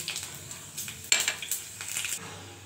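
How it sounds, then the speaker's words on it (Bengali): Bay leaf, mustard seeds, radhuni, fenugreek and chilli hit hot oil for tempering, heard as brief crackling spatters mixed with sharp metal utensil clinks against a pan, close and moderately loud. "এবার ফোড়নটা দিচ্ছি।"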